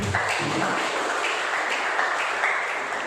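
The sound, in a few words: congregation applauding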